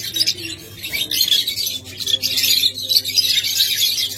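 Pet lovebirds, budgerigars and cockatiels squawk and chirp nearby in a dense, continuous chatter of shrill, overlapping calls.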